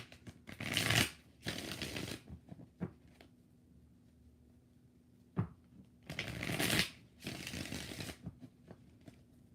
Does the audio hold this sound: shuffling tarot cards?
yes